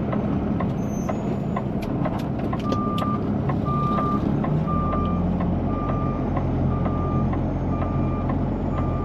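A reversing semi truck sounds a steady string of evenly spaced backup beeps over a loud diesel engine rumble heard from the cab, with no talking.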